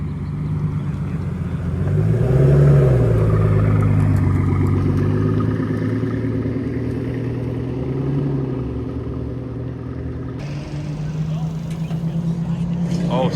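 Imola car pulling away at Monterey Car Week, its engine droning and swelling close by for a sustained stretch while people talk over it.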